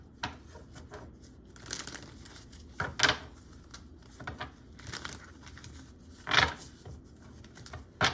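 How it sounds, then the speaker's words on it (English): A deck of cards being shuffled during a career card reading, heard as soft crinkling, rubbing card noise with a few louder riffling bursts, close and fairly quiet, with no talking. "Just shuffling these, putting them away. To put it with the rest of the deck"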